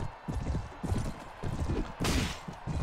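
Horses gallop in Mount & Blade: Warband with a Game of Thrones mod, giving a steady run of hoofbeat clip-clops over a busy, loud battle din, with no talk.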